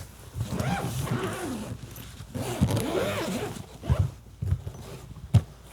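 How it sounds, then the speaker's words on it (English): The zipper runs around a Level8 Adventurer 20-inch carry-on suitcase in several close, rasping pulls of uneven length, with short pauses and a few soft thumps between them. "then I'll zip it back up"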